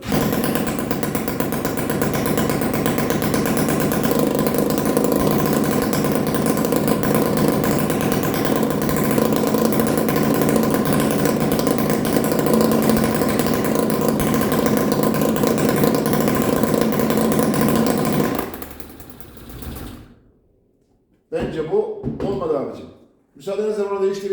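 A Puch moped engine fitted with a 45mm cylinder runs steadily at a loud, close idle-like drone with a faint voice over it, then cuts out and sputters through a few brief restart bursts.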